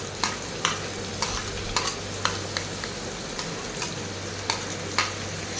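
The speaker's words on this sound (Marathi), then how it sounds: "तर एक कांदा अशा प्रकारे बारीक चिरून घेतला आहे मी तो कांदा टाकून घेते आहे" Finely chopped onion fries in a pan with a steady close sizzle, while a spatula scrapes and taps the metal in regular strokes about twice a second.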